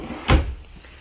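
A deep, long kitchen drawer in a home produces a single quick thud as it shuts, sharp and close, followed by quiet room tone.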